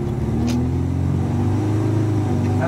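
Mazda B2200 pickup truck fitted with a rear sway bar, oversteering and drifting: a steady, loud engine drone with revving rumble that holds evenly throughout, no voices.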